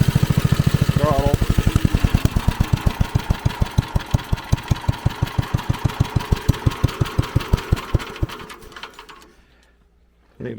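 An old tractor engine runs under throttle with a steady, loud rhythmic chugging of evenly spaced firing pulses that continue for about nine seconds, then the engine cuts out and leaves near silence.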